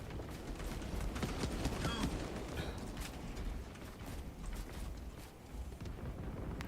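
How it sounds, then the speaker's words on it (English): A weapon is reloaded during a Space Marine 2 multiplayer match, with clanking, ratcheting mechanical clicks inside a dense, rumbling battle mix while someone talks over it. "Reloading."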